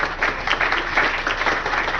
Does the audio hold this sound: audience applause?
yes